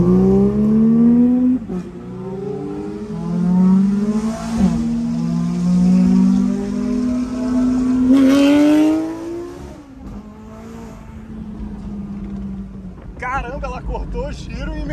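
Porsche 911 GT3 RS with a straight-pipe exhaust accelerating hard through the gears, a loud, close, rising engine howl with audible shifts and brief dips, then fading, with people talking over parts of it.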